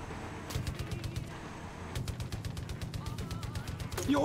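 Gunfire from a weapon in Far Cry 5: bursts of rapid shots, a quick volley early and a longer run of evenly spaced shots after a pause, fairly close over a low background rumble.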